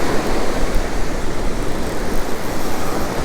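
Ocean surf at a beach during fishing, a loud, continuous wash of breaking waves and rushing water with no voices.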